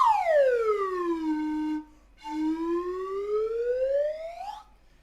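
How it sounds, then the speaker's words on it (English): A single breathy whistle-like tone from a simple piston flute slides steadily downward, breaks off for a moment, then glides back upward in a long continuous swoop before stopping. "Here's a very simple piston flute that sounds like this."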